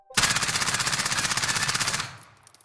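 A Modern Warfare gun firing full auto in Call of Duty: Warzone, a loud, rapid, evenly spaced burst of shots lasting about two seconds before cutting off into a brief fading tail.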